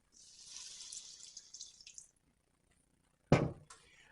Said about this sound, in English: just put a bit of water bottom of the pan